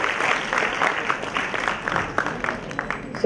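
Audience applause at a university induction ceremony in Rohtak as guests are honoured with shawls, a steady mid-level crowd clapping sustained for a few seconds with scattered louder individual claps.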